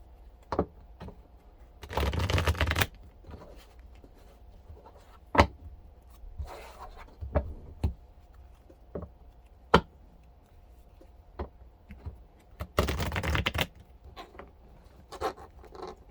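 Tarot cards being shuffled by hand in quiet surroundings, with repeated soft riffling bursts and scattered light taps and flicks, close and fairly faint.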